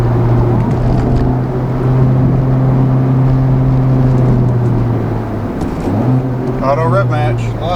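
A 2019 Honda Civic Type R engine with a Borla exhaust and manual transmission drones steadily with harmonic tones, dips briefly, then an automatic rev-match blip on the downshift as the pitch jumps back up, with faint chatter on top.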